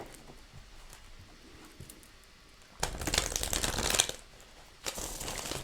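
Tarot cards are shuffled by hand, a soft riffling patter that swells into a dense, crisp flutter of cards for about a second, then a brief final burst, close and with no talking.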